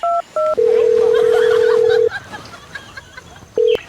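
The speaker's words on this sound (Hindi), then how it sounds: "ले फोन लगाए तभी मजा आए" Several electronic keypad tones beep in sequence: two short beeps, one long sustained tone, then a final beep, with faint room noise between them.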